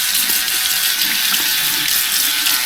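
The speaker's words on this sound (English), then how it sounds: "Rinsing quickly my skin." Water runs and splashes steadily from a tap as shave cream is rinsed off skin, a constant close hiss with no voices.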